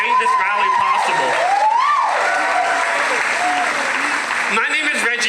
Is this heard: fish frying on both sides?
no